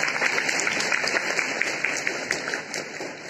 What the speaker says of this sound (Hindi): मुझे ताली बजाने के लिए आप सब लोग मजबूर कर रहे हैं